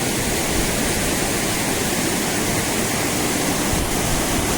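A steady, loud roar of Manche waterfall in Devgad, dropping about seventy feet, fills the whole clip, broad and constant, heard up close, with no voices.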